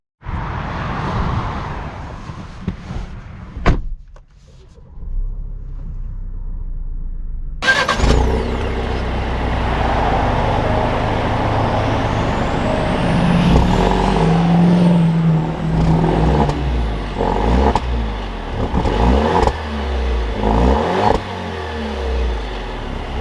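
A 2021 Alfa Romeo Stelvio Ti Sport SUV cranks and starts, then pulls away with steady engine noise and rising revs as it accelerates, the sound loud and continuous for most of the run.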